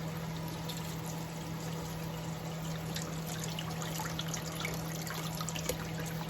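Kitchen tap water runs steadily while cracked, peeled eggs are rinsed to clear off bits of shell; a constant close trickling hiss with a faint hum beneath and no talking.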